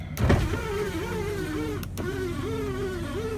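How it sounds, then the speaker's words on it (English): Aftermarket power windows in a Ford whir as their electric motors run, a steady whine that rises and falls over a few seconds, starting after a short thump and briefly pausing midway. "let me show you what's going on here with the aftermarket power windows"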